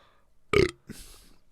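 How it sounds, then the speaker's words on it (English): A single loud, close burp, drawn out for a moment, followed by a quieter rumbling sound. "Do you do the shotgun with every burp?"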